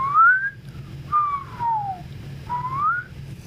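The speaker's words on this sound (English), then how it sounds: "or whistling" A person whistling three short rising and falling notes with gaps between, clear and close over a faint low hum.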